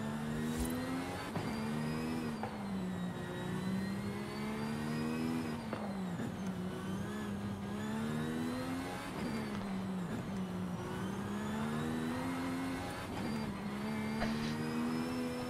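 Mercedes-AMG Project One hypercar engine in Forza Horizon 5, droning continuously as it accelerates, shifts and revs up and down through maneuvers, with no talking over it.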